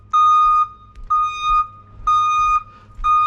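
A bus's loud, steady reverse alarm beeps four times in an even rhythm, each tone long and sharp, with no voices.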